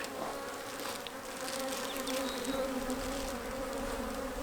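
Honeybees hum in a dense, steady drone inside a hive split that has been queenless for 40 days, close by, with no voices.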